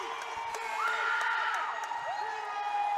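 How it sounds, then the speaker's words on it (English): Crowd cheering and whooping at a girls' championship basketball tournament in Texas, a steady, loud roar of many voices with high shouts rising and falling over the whole stretch. "We were waiting for the excitement of the crowd, and we've got it"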